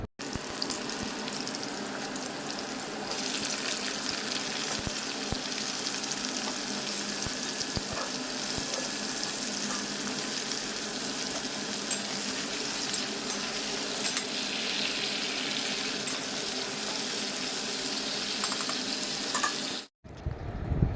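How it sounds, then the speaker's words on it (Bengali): Prawn curry and Malabar spinach cook side by side in pans in a home kitchen, hissing and sizzling in a dense, continuous wash that cuts off briefly near the end. "ওদিকে পুঁই শাকও বসিয়ে দিয়েছি, এদিকে চিংড়ি মাছের তরকারিও বসিয়ে দিয়েছি।"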